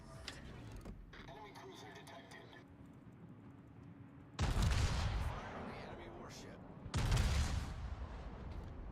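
Ship guns boom in two heavy, loud bursts in the naval game Battle for the Seas, each blast a broadband thud with a ringing tail, set against a steady background of game noise.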